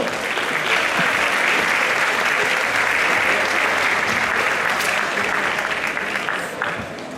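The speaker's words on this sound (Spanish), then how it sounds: "Un aplauso." Crowd applause at a Galician bodybuilding and fitness championship award ceremony as the overall champion is called to the stage, sustained loud clapping filling a hall, easing slightly toward the end.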